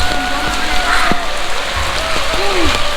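Heavy rain beats steadily on a flooded street nearby, a loud continuous hiss with a few faint tonal sweeps in the background.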